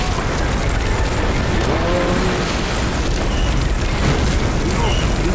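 A tank exploding in Medal of Honor Allied Assault, heard as a continuous loud rumbling roar of blast and battle noise throughout, dense and close with no clear breaks.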